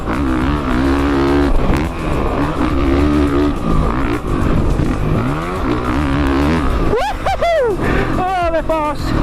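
A 2017 Honda CRF450R dirt bike engine ridden at Lake Elsinore, loud and close, its pitch rising and falling as the rider works the throttle, with sharp revving sweeps near the end.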